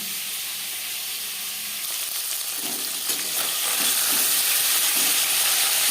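Radish and potato pieces frying in oil, making a steady, fairly loud hiss and sizzle with a few soft stirring scrapes toward the end.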